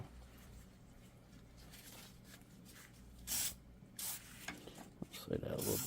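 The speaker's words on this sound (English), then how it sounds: "And then we're going to spray some WD on that." WD-40 is sprayed onto a universal joint on a vehicle axle or drive shaft in a few short hissing bursts close by, over low background rumble, with quiet handling noises between.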